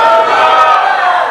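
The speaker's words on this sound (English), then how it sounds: "Shout a bigger hallelujah." A church congregation shouts hallelujah together in a loud, sustained crowd roar lasting about a second and a half.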